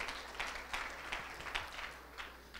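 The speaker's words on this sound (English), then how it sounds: "Let's give him another round of applause" Audience applause at a Utah State entrepreneur leadership Shark Tank night, a soft, steady patter of many hands clapping with no voices, fairly distant and low in level.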